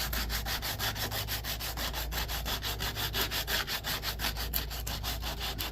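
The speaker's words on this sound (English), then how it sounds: "I can just take a 80 grit sandpaper here and just kind of work your way in all the corners." Hand sanding a wooden double barley twist candlestick holder with 80 grit sandpaper, a rapid steady back-and-forth rasping rub, about four strokes a second, close and alone.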